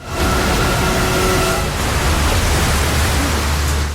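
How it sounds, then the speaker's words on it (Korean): Stormy sea waves crash and churn in a dense, loud, continuous roar of rushing water, unbroken for several seconds with no voices. "집채만한 검은 파도가 바지선을 위협하기 시작한 것이죠"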